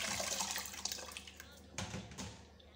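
Tap water runs and splashes over cherry tomatoes and radishes being washed together in a sink, a steady close rush with small splashy bursts, no talking.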